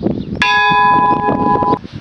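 A small church bell in the tower of the church at Villard, Haute-Savoie, rung by pulling its rope, gives one loud clear strike whose bright ringing tone sustains and slowly fades over a busy low background.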